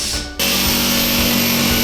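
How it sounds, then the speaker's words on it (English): A jigsaw cutting a hole in an Onyx Collection bathroom wall panel starts abruptly and runs as a steady, close, buzzing reciprocating drone with a constant pitch and no voices. "use a jigsaw to cut out the rest of the hole"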